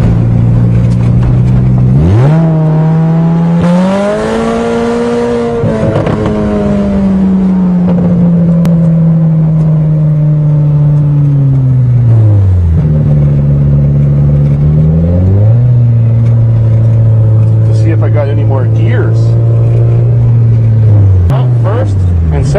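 A Toyota GTS accelerating on a cold engine, its loud revving note climbing steadily through a long pull, dropping at a gear change and rising again, close and dominant throughout.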